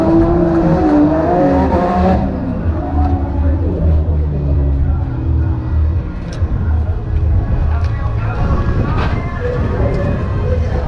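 A drift car engine roars and revs steadily nearby at a British Drift Championship event, with a rising pitch as it accelerates. Voices are faintly mixed in under the noise.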